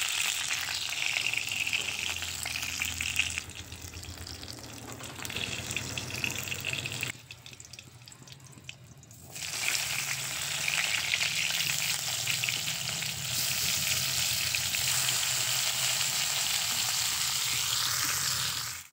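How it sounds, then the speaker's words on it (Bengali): Saiding fish fry in hot oil with a loud, crackling sizzle. It drops away briefly midway, then returns strongly and holds steady to the end. "মাছগুলো ভাজা হয়ে গেছে, এখন এই মাছগুলোকেও তুলে নিচ্ছি।"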